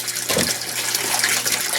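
Water pours steadily into an aquaponic grow bed with a bell siphon, a continuous close gushing and splashing without any voices.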